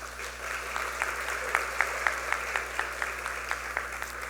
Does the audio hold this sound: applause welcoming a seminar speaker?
yes